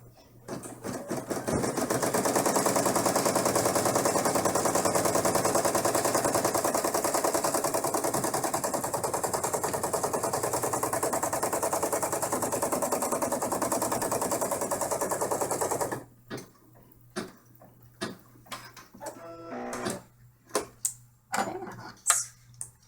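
An embroidery machine sews a placement stitch in tan thread for a felt dollhouse roof, a fast continuous mechanical chatter for about fifteen seconds that stops abruptly, followed by scattered handling taps and clicks.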